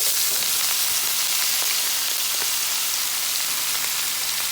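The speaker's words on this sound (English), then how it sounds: "Alright, so my pot is ready. Let's go ahead and add all of these veggies." Vegetables sautéing in melted butter in a pot, a steady, dense hiss and crackle of sizzling that stays loud and even throughout, with no talking.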